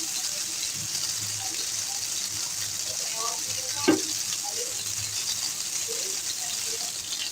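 Chicken shami kababs fry in oil in a pan over a medium-to-low flame, giving a steady, even sizzling hiss throughout, with a brief louder crackle midway and a voice faintly present now and then.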